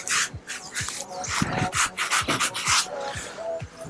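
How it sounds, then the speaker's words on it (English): A new sponge scrubbing slime off a whole tuna: quick, rhythmic rubbing strokes, about a dozen close, wet swishes in steady succession. "this is a brand new sponge. We're just getting all that slime off the fish."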